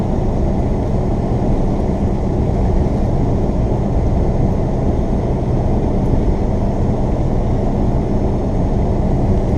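A truck spreads gravel along a two-lane county road, heard as a steady, loud broadband rumble and crunch that holds without a break throughout, with no talking.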